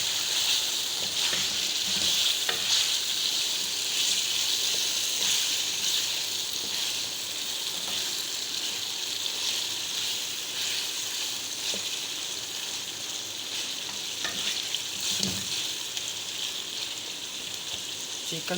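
Chicken frying in a pan for chicken karahi, a steady broad sizzle running throughout, close and even, with a few faint clinks.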